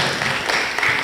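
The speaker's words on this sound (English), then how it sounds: "can we give ourselves a round of applause?" A conference audience claps together, a brief dense burst of applause from a crowd at a Palm Wine Conference gathering.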